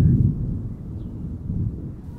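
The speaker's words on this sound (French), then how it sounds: "le tonnerre commençait à gronder au loin" Thunder rumbles far off, a low, continuous, swelling roar that dips and rises again over a couple of seconds, with no voices over it.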